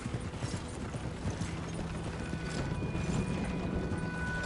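A horse gallops in Red Dead Redemption 2, rapid rhythmic hoofbeats with creaking tack under a steady low rumble, continuous and moderately loud throughout.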